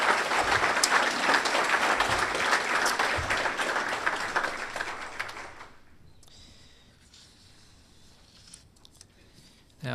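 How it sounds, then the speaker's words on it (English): An audience at a Good Scout award evening applauds past award winners, a dense burst of clapping that fades out after about six seconds, leaving quiet room noise. "let's give a round of applause for our past award winners"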